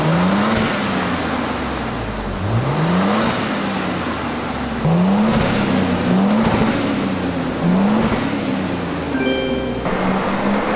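Deep exhaust rumble from a Lexus GX550 SUV rising in repeated revving sweeps, loud and close, each climb falling back before the next.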